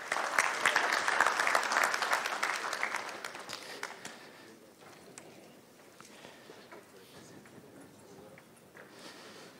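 An audience claps at a trophy presentation during an insurance conference panel, with dense applause loud for the first few seconds, then thinning into scattered, fading claps.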